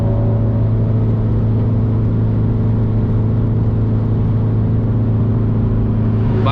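A remapped car pulls in fifth gear after an upshift, its engine droning in a loud, steady hum with a strong low tone that holds on evenly, heard from inside the cabin with no talk.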